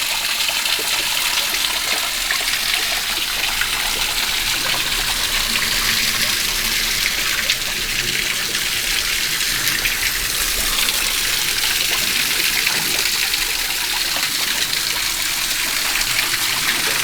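Waterfall pouring over boulders into a pool on a forest trail in Shawnee National Forest, Southern Illinois, a steady full-band rush of falling water that holds evenly for the whole stretch with no voices.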